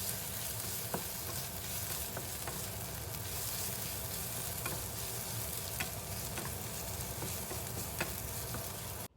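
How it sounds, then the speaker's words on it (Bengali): Onions, potatoes and garlic fry steadily in a pan, giving a continuous dense sizzle with occasional faint clicks of stirring throughout. "এখানে পেঁয়াজ আর আলু এদিকে ফ্রাই হচ্ছে"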